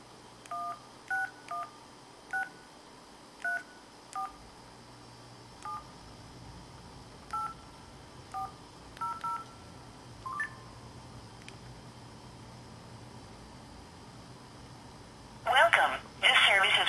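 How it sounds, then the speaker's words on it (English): A cell phone dials a conference call number: a string of short DTMF keypad tones in irregular rhythm over a quiet room hum, followed by a louder burst of line audio at the end. "I'll go ahead and dial the number and join."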